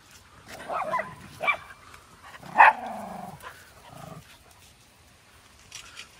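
Dogs in a pack bark and yip on an early-morning drizzly outdoor field, a few separate sharp barks and short yelps spread over several seconds at moderate distance, with quiet gaps between.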